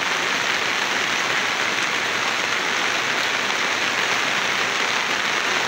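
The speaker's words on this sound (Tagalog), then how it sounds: "Talagang bumuhos ang ulan guys." Heavy rain pours down steadily outdoors, a dense continuous hiss of drops hitting surfaces with no pauses and no voices.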